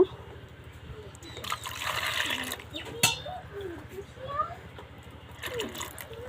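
Water runs and splashes over five ripe mangoes being washed for pitha, a soft trickle with splashy bursts, close by, while someone talks over it.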